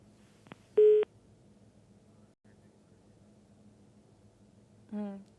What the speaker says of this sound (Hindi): चलिए, डिम्पी से हमारा संपर्क नहीं हो पा रहा है